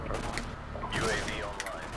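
Gunfire rattles through an online Modern Warfare 2 match in quick, uneven bursts layered over game noise, with a voice talking at moments.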